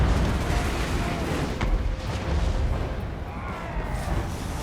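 Booming artillery fire and explosions from a Total War: Warhammer battle, a dense continuous rumble of blasts and bursts layered over one another, with a sharper crack near the two-second mark and no clear talk.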